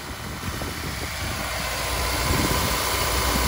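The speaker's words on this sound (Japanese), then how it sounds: "はい、ではエンジンかけてみます。" A Honda S2000 AP1 engine idles steadily and evenly, a smooth mid-pitched hum that grows slightly louder toward the end, with no voices.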